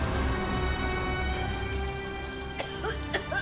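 Steady rain falls on an outdoor spot, with a continuous wash of drops and a few sharp splashes near the end, under a TV drama scene where a woman is left out in the downpour; faint voices sit in the background.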